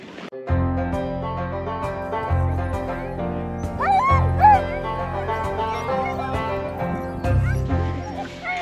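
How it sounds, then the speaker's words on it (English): Huskies waiting for a sleigh ride at the Matterhorn in winter bark, yip and whimper close by in an excited overlapping chorus that runs throughout. "We go on a Husky sleigh round at the Matterhorn."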